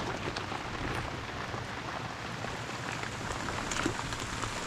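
Steady rain falls outdoors in the Philippines, a dense, even hiss of drops on surfaces that holds constant from start to end, with no voices.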